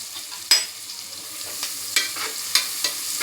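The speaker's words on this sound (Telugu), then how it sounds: "కొంచెం బ్రౌన్లా వేగాలి, బ్రౌన్ కలర్ వచ్చేలాగా వేయాలి." Onions and curry leaves fry in a pan with a steady soft sizzle, broken by a few sharp clatters of stirring at irregular intervals; no voices.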